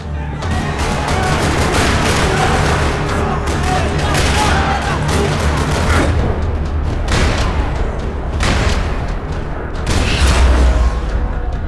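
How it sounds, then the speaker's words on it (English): Rapid bursts of gunfire crackle and echo in a parking lot in Max Payne 3, repeated volleys layered with rumbling booms. "Another parking lot rattling with gunfire."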